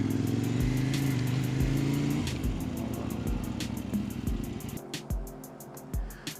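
Kove 800 motorcycle engine while riding, a close buzzing drone that rises and shifts pitch with quick gear changes and throttle blips, with a rhythmic ticking running through it.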